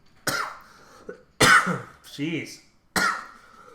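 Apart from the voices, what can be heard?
coughing into a cup near the microphone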